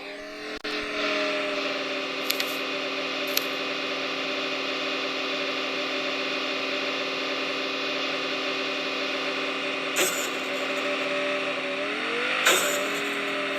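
Vehicle engine in Call of Duty Warzone, a steady droning car motor holding one pitch while driving, rising briefly near the end, with a few faint clicks and bursts over it.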